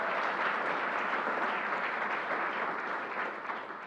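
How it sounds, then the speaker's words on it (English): Steady applause from an audience at a press conference announcing LEGOLAND New York, dense and sustained throughout, easing slightly toward the end. "Let's give Don a round of applause."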